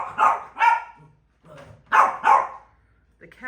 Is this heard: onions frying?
no